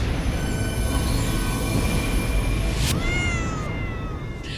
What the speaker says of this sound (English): Cue dramatic music, cannons booming, and screeching cat noise.